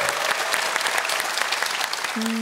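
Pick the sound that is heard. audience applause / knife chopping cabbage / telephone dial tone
audience applause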